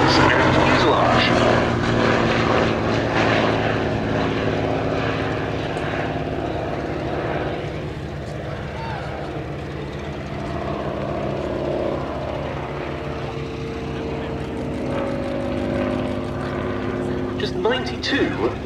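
A Hawker Nimrod Mk.1 biplane flies past at the Duxford Battle of Britain airshow, its piston engine droning loudly and steadily, fading slightly mid-pass and then swelling again.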